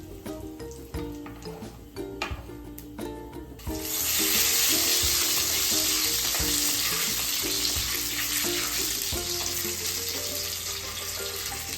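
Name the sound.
bay leaf sizzling in hot oil tempering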